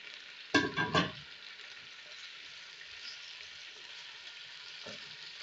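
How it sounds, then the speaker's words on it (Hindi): Boiled mutton hitting hot oil with garlic paste in a karahi, giving a brief burst of loud stirring and sizzling before settling into a steady, soft frying hiss. "यहाँ लहसुन के पेस्ट के साथ हम अच्छी तरह गोश्त को जो है वो फ्राई कर लेंगे"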